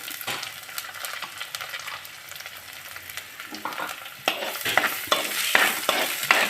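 Shallots and onions frying in a pan for a spicy Kerala fish curry, stirred steadily, with a constant sizzle and scraping strokes that grow louder and busier toward the end, no voices.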